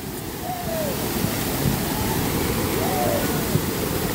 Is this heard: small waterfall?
yes